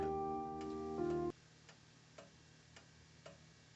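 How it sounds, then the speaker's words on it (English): An antique clock ticks after winding, faint, even ticks about every half second in a quiet room, preceded by a brief sustained ringing tone that cuts off abruptly. "that's just to assure it's going to have that nice even tick-tock"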